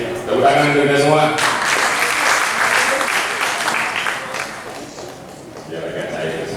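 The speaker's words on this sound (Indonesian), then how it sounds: "Tepuk tangan untuk kita semua." Applause from an audience at a city council plenary session in Malang, a dense, steady burst of many hands clapping that fades slightly, with a voice speaking over it.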